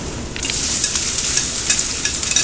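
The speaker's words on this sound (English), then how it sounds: "Then we add our risotto to it." Risotto rice sizzles and crackles in a hot pan with olive oil and shallots, a steady close frying hiss with light stirring scrapes and no talking.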